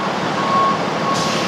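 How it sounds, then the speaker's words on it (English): A truck's reversing alarm beeping while it backs up, a loud, steady high tone over rumbling engine noise, close by and continuous. "Damn truck won't shut up."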